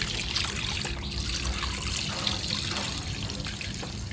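About a liter of milk poured into a pot, a steady close liquid trickle and splash running continuously without pause.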